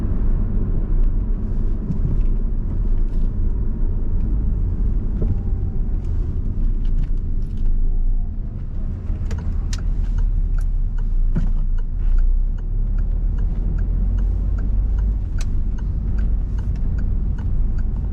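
A car on a mock driving test rolls along with a steady low engine and road rumble, continuous for the whole stretch, with faint ticking like an indicator in the cabin.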